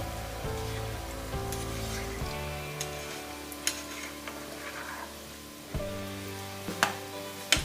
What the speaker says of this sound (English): now fry for 2-3 minutes and do not golden brown color will not change